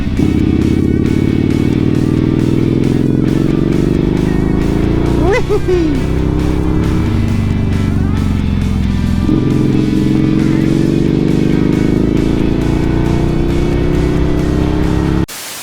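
A Yamaha Bolt bobber motorcycle on a test ride runs with a loud, steady engine drone close up. The pitch shifts with throttle and gear changes partway through, and wind rush sits over the engine throughout.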